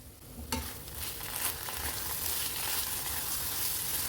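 Spices stirred into a frying pan of paneer and potato curry, a bright continuous sizzle with scraping strokes of a spoon, close and loud with no talking.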